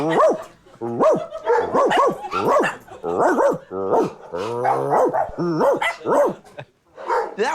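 A voices a run of loud, rhythmic barks and growls imitating a dog, close up and alone, with short pauses between bursts.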